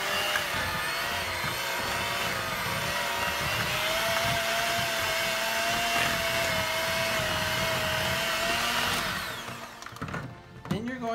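Electric mixer beating cream cheese in a bowl: a steady, loud motor whine running for several seconds before it slows and stops near the end.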